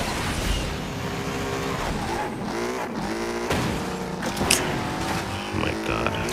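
A car in a racing game drives around a Rome circuit, engine revving hard through gear changes with tire squeal and skidding, loud and continuous throughout.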